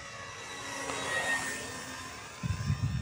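A Tower Hobbies Cessna 400 RC model airplane, 1.1 m span, cruises overhead on its maiden flight, a thin, steady motor whine swelling slightly as it passes, with some wind buffeting near the end.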